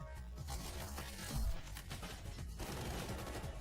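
A dense, muffled exchange of gunfire in Delta Force rattles steadily with one heavier thump, sounding a little distant and unbroken.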